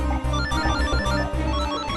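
A telephone rings in a French-dubbed drama series, a loud, steady ringtone with a repeating rhythmic pulse running the full two seconds.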